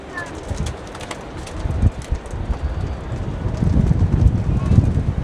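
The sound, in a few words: strong wind at the top of a bell tower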